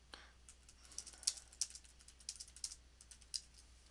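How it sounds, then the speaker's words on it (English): Typing on a computer keyboard, a fairly quiet run of light, irregular key clicks with a few sharper taps, heard alone with no talking. "you type in a question"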